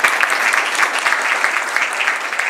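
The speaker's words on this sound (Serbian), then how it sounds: "I molim se na aplauz" An outdoor political rally crowd in Negotin, Serbia, applauds steadily, a dense, even wash of clapping throughout, fairly loud with no voices standing out.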